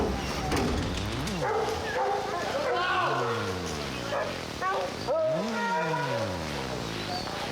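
Bear-hunting hounds in Wisconsin woods bay and howl continuously in long, rising and falling overlapping cries, loud and close, with several dogs calling at once.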